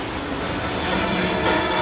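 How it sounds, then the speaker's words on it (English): A tram on the Universal Studios Hollywood studio tour rolls past with a steady broadband rumble of wheels and motor, fairly close and loud, with no voices over it. "The tram's in the background."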